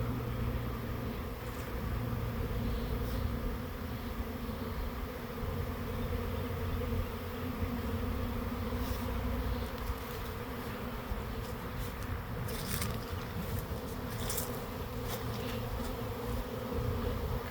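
A swarm of honeybees drones in a bee yard, a dense, steady buzzing hum that fills the whole stretch without pause, close and even in loudness, with no voices.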